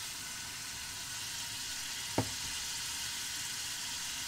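Two tomatoes frying in masala for a goat curry, making a steady hiss of sizzling with one brief clunk of a spoon or pan partway through, and no talking.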